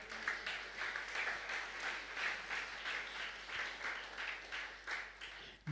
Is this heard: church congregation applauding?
yes